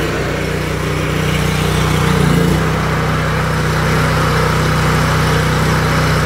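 The engine of an 8 gpm, 3500 psi pressure washer trailer runs steadily at high RPM, a loud, continuous droning hum with a slight rise in the middle and no pauses.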